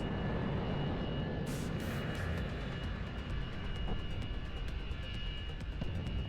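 Helicopter flying in the video game Megaton Rainfall, a loud steady roaring engine drone with a brief whooshing burst early on, continuing without speech.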